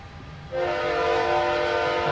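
A train passes and sounds a loud, sustained horn that starts half a second in and holds steady over a low rumble of rail noise.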